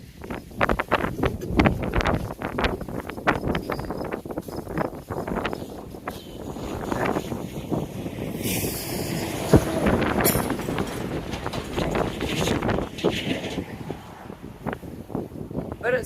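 Gusty wind buffets the microphone outdoors during magnet fishing, a steady rough rumble with rustling bursts that runs through the whole stretch, loud and close, with scattered clatter alongside it.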